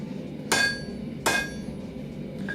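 A ball peen hammer strikes hot steel during blacksmithing of S-hooks, two loud, sharp metallic blows about a second apart, with a faint third tap near the end and a low workshop hum.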